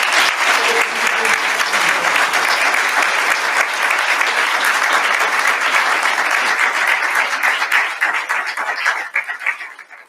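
An audience at a Hope for Life charity conference in the UK breaks into sustained, dense applause that holds steady and loud for most of the stretch, then begins to thin and fade toward the end.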